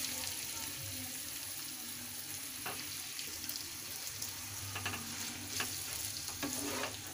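Tomato and chana dal curry is stirred in a frying pan, with a soft continuous sizzle and a few sharper scraping clicks as a spoon moves through the mixture, close by and fairly quiet.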